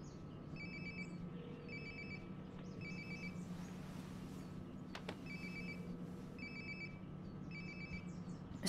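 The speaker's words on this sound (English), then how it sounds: "Sounds like my phone is definitely nearby." A cell phone rings nearby in the video game Life Is Strange Before the Storm, repeating electronic trills in regular bursts over a low ambient hum, with a faint thud midway.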